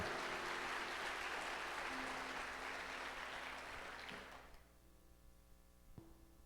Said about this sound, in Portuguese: Se você crê nisso, aplauda o Senhor aí no seu lugar, amém?